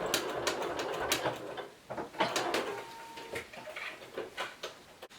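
Close sewing machine quilting on a giraffe design, a fast irregular run of light mechanical stitching clicks and ticks that pause and restart, moderately quiet throughout.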